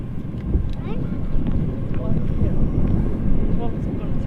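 An aircraft taxiing at Manchester Airport gives a steady engine roar with wind buffeting across the microphone, continuous and fairly loud throughout.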